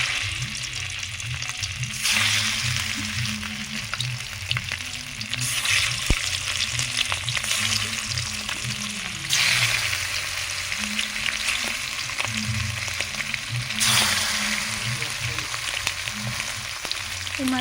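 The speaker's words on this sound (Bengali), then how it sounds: "ওর মধ্যে এবারে কড়াই সরষের তেল দিয়ে দিচ্ছি মাছগুলো ভাজার জন্য।" Hilsa fish fry lightly in mustard oil in a wok, giving a loud, continuous crackling sizzle that swells in broad waves and holds steady throughout.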